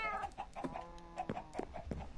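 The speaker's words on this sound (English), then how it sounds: "They had lots of chickens." Several chickens cluck in the video game Minecraft, overlapping short clucks and squawks in an irregular stream, moderately close and heard alone.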